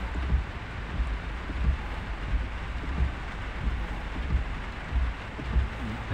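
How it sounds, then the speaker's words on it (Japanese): Heavy rain pours down in a steady, dense hiss with low rumbling swells, loud and continuous throughout, with no clear talking. "この雨やば。"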